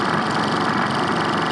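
A scooter engine runs steadily up close, a continuous buzzing drone with a rough, even texture and no pauses.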